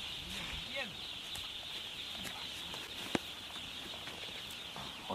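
A crowd of ducklings peeps and chirps faintly inside a warm, coal-heated shed, their high calls steady and overlapping. A voice talks over them, and there is one sharp knock.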